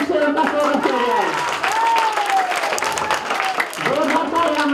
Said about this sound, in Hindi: तो जोरदार ताली से उनका स्वागत किया जाए।